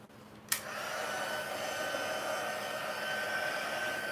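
Heat tool blowing hot air to warm the adhesive on a diamond fun-fold card, a steady loud whoosh that switches on abruptly after a brief click and runs continuously to the end with no talk.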